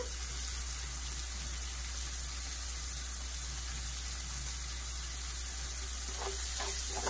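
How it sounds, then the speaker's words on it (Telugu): Small dried shrimp frying with onions in a pan, a steady close sizzle throughout with faint stirring taps near the end. "ఎండు రొయ్యలు కూడా కొద్దిగా ఫ్రై అవ్వాలండి"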